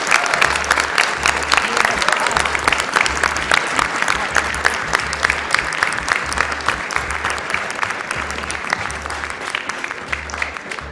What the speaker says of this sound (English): let's put our hands together and give one more applause for that great race